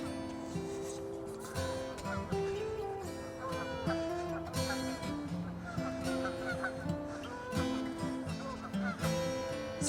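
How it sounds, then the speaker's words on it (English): Noisy geese honking on the far bank of a lake on a morning, with many ducks on the water; loud overlapping honks and calls continue throughout. "Some very noisy geese over on the far bank."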